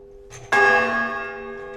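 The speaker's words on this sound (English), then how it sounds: "she's going to pull the cord for this bell, which I'm standing directly underneath" A large bell is struck once when its cord is pulled from directly beneath it, giving a loud, close clang that rings on and slowly decays.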